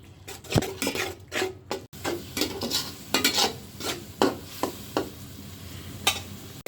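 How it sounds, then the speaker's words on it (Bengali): Crushed garlic fries in a pan with turmeric and chili, a soft sizzle under repeated close scrapes and knocks of a spoon against the pan, with no talking. "রসুন দিয়ে দিচ্ছি, ছেঁচে দিলাম রসুনটা"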